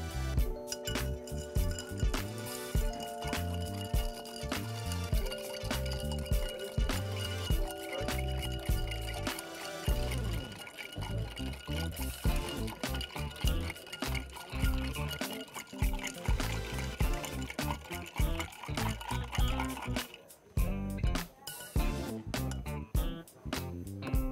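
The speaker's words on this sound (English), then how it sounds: "We're gonna stir." A drink stirred for a Caribbean-style cocktail, with a busy run of quick clinks and liquid swirls that grows dense after a musical opening and continues close and steady with music underneath.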